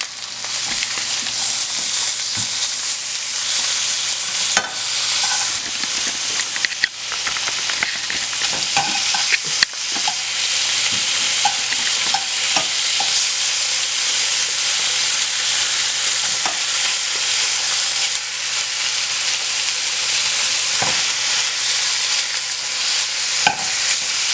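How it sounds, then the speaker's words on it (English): Bacon frying in a pan on a stove, a loud, steady close sizzle with occasional pops and utensil taps throughout. "move on to my other pan and put my bacon in there."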